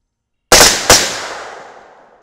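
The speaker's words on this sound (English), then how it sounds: "the gun seems to run just fine in full auto mode" Two rapid, loud rifle shots from a full-auto AR-10 chambered in 6.5 Creedmoor with a 20-inch barrel, fired outdoors close by, each with a sharp crack and the second trailing into a long fading echo.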